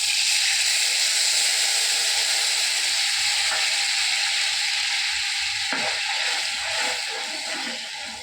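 Loud, steady sizzling of mustard seeds and a dried red chili frying in hot oil, with a few sharp pops and crackles near the end.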